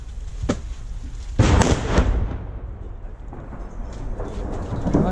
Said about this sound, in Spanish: Hay fuego cruzado, bombardeo fuerte en este momento.